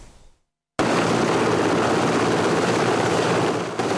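A helicopter on an ice reconnaissance flight over a river jam in Yakutia roars loudly and steadily after a brief near-silent gap, its broadband rotor and engine noise holding constant before easing slightly at the very end.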